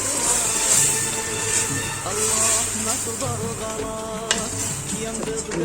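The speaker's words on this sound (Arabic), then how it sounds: "دابا غندير عليه المطيشه، نعاودو نقليوها حتى هي شويه" Tomatoes fry with lamb meat in a pan, giving a steady sizzle close up. A utensil stirs and scrapes against the pan throughout, with a few clinks.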